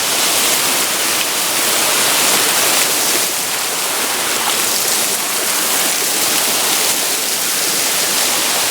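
Seven Sisters Waterfalls in Murray Canyon, Agua Caliente Indian Canyons, with water rushing down over rocks and splashing into a recess, a loud, steady, broadband roar that never lets up, heard close with no talking.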